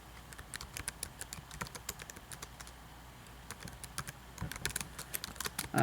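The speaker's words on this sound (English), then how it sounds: "I'm just going to write in the chat box here." Keyboard typing in a chat box during a live stream, with quick uneven bursts of clicking keys close by, pausing briefly midway before the tapping picks up again.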